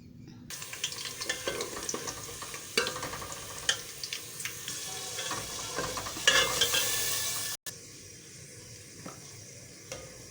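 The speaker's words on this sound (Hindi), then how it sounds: "हम प्याज फ्राई करेंगे और उसमें मसाला डाल देंगे" Onions and masala frying in hot oil while being stirred; a continuous close sizzle with scraping stirs, a louder burst near the end, then a brief cut and softer sizzle, no voices.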